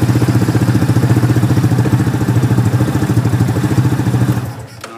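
A Yamaha Rhino engine running during a fuel pressure test, with a steady, close, pulsing mid-pitched idle chug that runs for several seconds and then quickly dies away.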